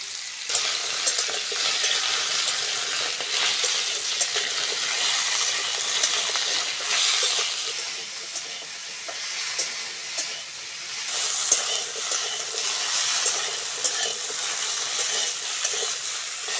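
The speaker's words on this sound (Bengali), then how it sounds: "সবজিগুলো ভালো করে ভেজে নিয়েছি" Taro, potato, radish and plantain pieces fry in hot oil in a pan for Bengali shukto, a steady close sizzle with occasional stirring scrapes and no talking.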